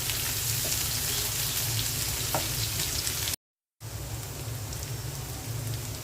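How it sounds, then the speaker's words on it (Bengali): Onion, garlic and dried chilies fry in hot oil, giving a steady, dense sizzle throughout with a brief dropout partway. "পেঁয়াজ, রসুন আর শুকনো মরিচ ভেজে নিচ্ছি"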